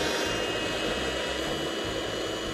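A Chinese vacuum cleaner running during a suction test, a loud, steady whooshing roar with a low rumbling hum underneath, constant throughout.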